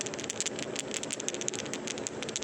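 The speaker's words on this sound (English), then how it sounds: "inside this float, there's a rattle." A rattle inside a catfish fishing float made by Catfish Sumo is shaken close up, giving quick, irregular clicking rattles in a continuous burst with no talking.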